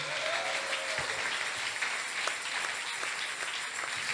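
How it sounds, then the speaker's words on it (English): A church congregation at a revival service in Ghana claps in sustained, dense applause, loud and close, with no one speaking over it. "Are you clapping?"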